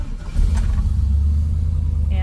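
A fuel-injected classic car engine cranks and catches quickly, then settles into a steady, close low idle rumble.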